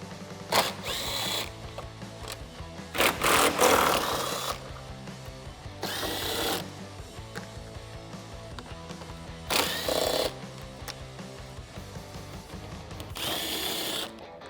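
A power tool with a 10mm socket backs out headlight bolts on a 2015-2017 Ford F150, several separate bursts of close whirring with quiet gaps between them and no talking.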